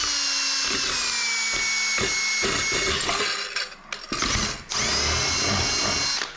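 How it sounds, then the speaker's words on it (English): A regular twist drill bores through thin material on a cordless power tool, its high motor whine rising and stuttering with several sharp catches and bursts as the bit grabs, loud and close with no talking. "If you're drilling thin materials with a regular twist drill, you're gonna end up with like a triangular hole."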